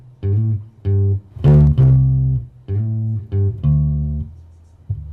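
A bass guitar plays a short riff of plucked, punchy notes with a slide, separated by brief gaps, close and clear with no voices.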